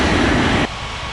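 An airliner in an airport game rolls for takeoff on runway 32, a loud broadband engine roar that drops abruptly partway through.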